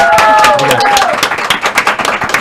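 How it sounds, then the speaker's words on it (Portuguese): Studio audience clapping to welcome a guest on a Brazilian podcast, a dense burst of applause that begins loud and then thins into scattered claps, with a host's voice carrying over the start. "Uma salva de palmas."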